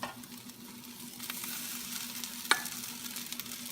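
Rice frying and being stirred in a pan for Japanese fried rice, a steady soft sizzle with scraping stirs and one sharp utensil tap, close and continuous without talk.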